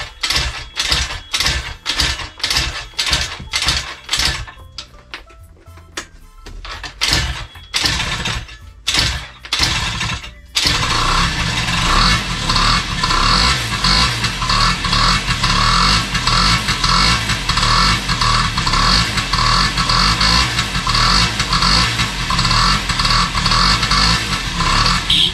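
A Honda Dio AF-18 scooter with a dry engine and empty carburettor cranks in a rapid series of short starter bursts for about ten seconds. The engine then catches and runs steadily at a high, buzzing two-stroke pitch, close and loud.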